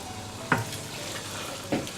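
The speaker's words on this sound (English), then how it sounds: "Now that's our spinach going in" Fresh spinach goes into a hot pot for egusi soup with a soft, steady sizzle, broken by two brief stirring knocks, and no one speaks.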